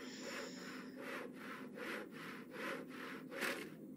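Sawing with a hand saw in the horror game Penumbra Overture: steady back-and-forth strokes, about seven rasping passes at an even rhythm, close and fairly loud, with no talking over it.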